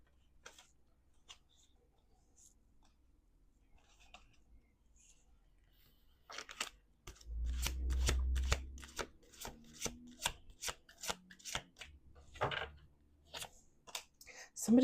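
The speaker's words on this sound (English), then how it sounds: "Last shuffle." Oracle cards being shuffled by hand during a morning affirmation reading, a run of quick crisp riffling ticks that grows louder and denser midway, with a soft low thump on the table.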